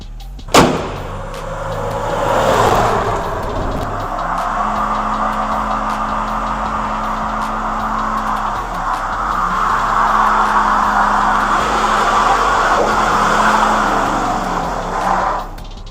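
A diesel crew cab pickup fitted with an S&S Motorsports DCR pump starts with a sharp thump, then its engine drones and builds as the truck drives and accelerates, loud and close inside the cab with no talk.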